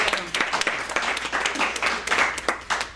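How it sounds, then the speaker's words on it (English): Applause for a guest speaker, a sponsor at an evening meeting, heard as a dense burst of clapping from a modest audience, close and lively, swelling and easing over three seconds without speech. "Please give her a big round of applause."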